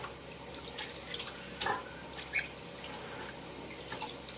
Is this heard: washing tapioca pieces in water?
yes